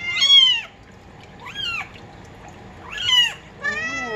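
A mother cat meows four times, loud and close, with drawn-out upward and falling cries spaced about a second apart over a faint background hiss while her kittens get a Dawn dish-soap flea bath.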